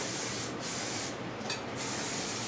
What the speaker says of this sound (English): I'm going to just start spraying it into the hair because I want to saturate the hair with product.